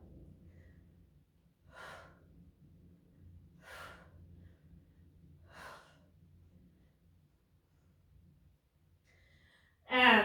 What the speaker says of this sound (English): You hear me exhale as I go